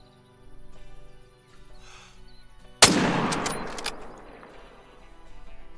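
A single 30-06 rifle shot is fired at a warthog in a hunting video game, one loud sharp crack after quiet ambience, followed by a long echoing decay.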